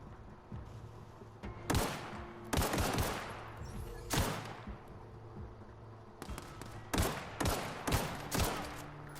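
Gunfire from a weapon in the video game The Outer Worlds, heard as loud, close bursts of shots: a few separate volleys early, then a rapid cluster of repeated shots toward the end, with no talking.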